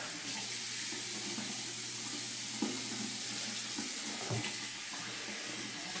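Running cold water from a tap splashing into a sink, a steady close hiss with occasional splashes as hands cup and rinse a face.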